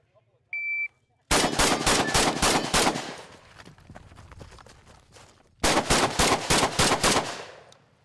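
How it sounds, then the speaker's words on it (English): Rapid bursts of machine gun fire during a timed shooting competition stage in Arizona, two loud sustained strings of automatic shots separated by a pause with fading echo and a faint beep before the first burst. "Mount the gun, shoot the gun, run over here, shoot the gun some more"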